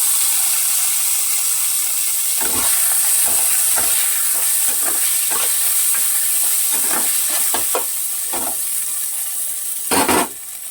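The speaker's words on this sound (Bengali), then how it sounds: "টমেটো কুচি দেওয়ার পরে হালকা একটু ভেজে" Onions with chopped tomato and turmeric frying in a pan, a loud, dense, steady hiss close by, punctuated by repeated clacks of a spatula stirring.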